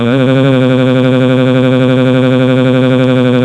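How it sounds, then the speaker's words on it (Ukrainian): A loud, sustained air raid siren wail in Minecraft holds a steady pitch throughout, with no talk over it. "Увага! Повітряна тривога!"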